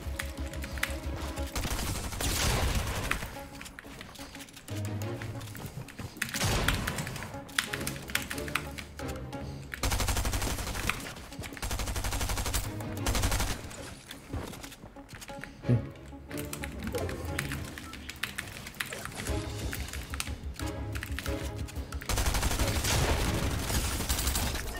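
Rapid bursts of Mark 7 assault rifle fire in Fortnite, crackling in repeated volleys over about twenty-five seconds amid clattering in-game sounds, with someone talking over parts of it.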